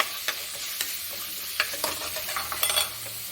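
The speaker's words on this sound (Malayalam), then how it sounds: "അത് നമുക്ക് ഇതൊന്ന് വഴറ്റിയെടുക്കാം" Shallots being sautéed in a pan for a fish kuzhambu, with a steady soft sizzle and several sharp scraping clicks of a spatula stirring against the metal.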